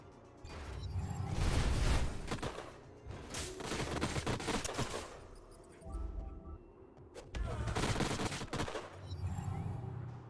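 Turret fire in the strategy game Age of Wonders: Planetfall comes in three heavy bursts separated by short lulls, each a rapid rattle of booming shots with mechanical clunks between them.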